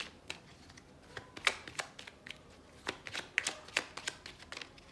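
Tarot cards shuffled and drawn from a deck, a run of soft, crisp card flicks and slides that come in irregular bursts, close and quiet with no voices.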